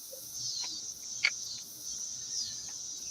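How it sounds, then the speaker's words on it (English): Crickets chirping at slowed-down speed, a faint, steady drawn-out trill with a few soft pulses, heard alone without voices. "Sounds like crickets on slow speed."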